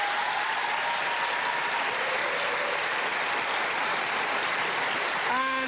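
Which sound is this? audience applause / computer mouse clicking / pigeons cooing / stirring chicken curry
audience applause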